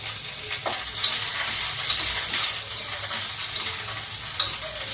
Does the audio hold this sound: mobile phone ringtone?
no